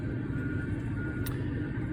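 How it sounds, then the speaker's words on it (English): Water tanker truck arriving at a construction site for underground fuel tanks, a steady close engine rumble and drone with a faint high squeak partway through. "here comes our got water truck"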